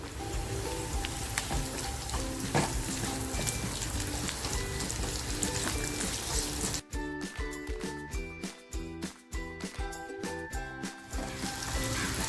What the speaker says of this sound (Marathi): थोडंसं तेल टाकून आहे ना कांदा टॅमॅटो आणि मिरची फ्राय करून घ्यायची आहे